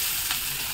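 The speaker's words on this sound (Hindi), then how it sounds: "उसमें मैं ये डाल दिया लहसुन मिर्ची और कांदा" Garlic, chilli and onion hit hot oil left in a kadai after frying potatoes, giving a brief, steady close sizzle with no talk.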